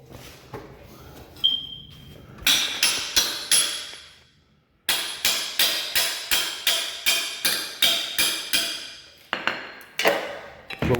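A hammer strikes a flat bar to pry up sharp carpet tack strips from a floor: bursts of rapid, ringing metallic blows in quick runs, close and loud, with brief pauses between runs.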